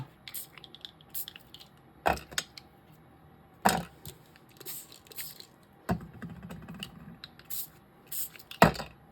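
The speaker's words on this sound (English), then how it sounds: "So what I want to do is I want to spray it with some water." A spray bottle misting water onto paper during distress oxide ink background work: four short, hissing bursts spaced a couple of seconds apart, close by, with small clicks and rustles between.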